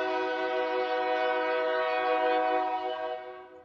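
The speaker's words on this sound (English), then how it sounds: "That's a train." A train horn blasts loud and close, a sustained harmonic chord that holds steady for over three seconds before starting to fade at the end, with no voices over it.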